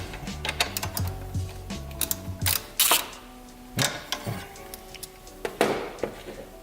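An 8mm socket wrench on a 2-inch extension works a bolt loose on a 2017 Honda Civic Si. Close, sharp ratcheting clicks and metallic ticks come in irregular bursts with short pauses, and nobody speaks.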